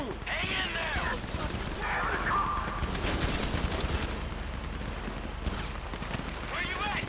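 Gunfire during a heist shootout in the video game GTA V, with bursts of automatic fire and sharp shots scattered across the clip alongside mechanical game sounds and whistling tones.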